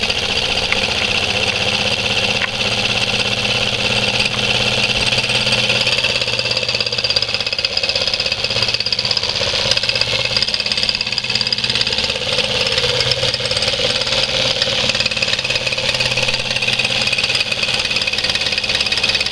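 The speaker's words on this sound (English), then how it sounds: "married to simple mechanical devices, and we have a beautiful little desktop engine" Miniature four-cylinder solenoid desktop engine running steadily on its own, a continuous even mechanical buzz and rapid clicking hum with no pauses, close and moderately loud.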